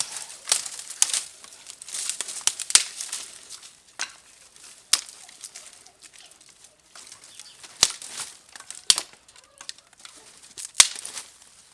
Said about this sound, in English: It just breaks up pretty dead gum easy.